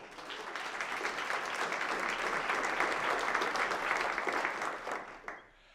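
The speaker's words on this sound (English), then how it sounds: "Let's give a round of applause for that." Sustained audience applause at a college campaign kickoff event, steady and full for about five seconds before tapering off, with no talking over it.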